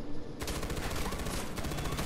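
Rapid gunfire from the video game Far Cry 4 rattles in a loud, steady stream of closely spaced shots, almost continuous automatic fire that dominates throughout.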